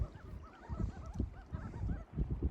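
Gulls call in short repeated cries over a lake on Alaska's Gulkana River, fairly faint under the lapping of water and low thumps.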